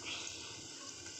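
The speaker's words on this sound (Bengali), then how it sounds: "ঝোল দিয়ে দিলাম" Broth poured into a simmering fish and red amaranth curry, a short steady hissing liquid rush, faint and alone.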